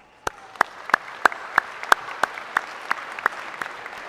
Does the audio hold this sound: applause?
yes